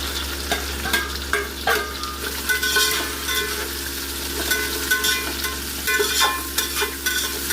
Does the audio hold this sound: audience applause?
no